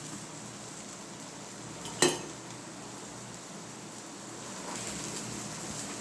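Ragi and drumstick-leaf dosa batter fries in oil on a hot pan, giving a steady low sizzle with one sharp metallic clink of a utensil partway through.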